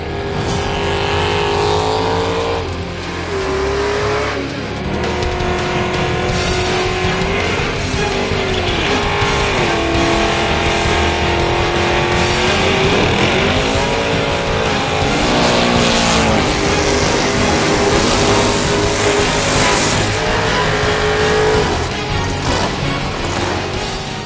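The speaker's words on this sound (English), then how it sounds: "Everybody loves a burnout, so let's take a look at some of the other burnouts at this track." A drag racing car does a burnout at a drag strip, with a loud, sustained engine roar and tyre noise that rises and falls in pitch, close and dominating throughout.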